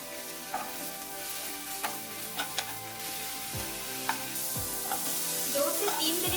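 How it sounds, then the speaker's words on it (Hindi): Mushrooms sautéing in hot oil in a kadai over a medium flame, a steady close sizzle with occasional scraping stirs and small pops. "अभी मशरूम्स को भी 2 से 3 मिनट के लिए मीडियम फ्लेम में हल्का सा सौते कर लेंगे।"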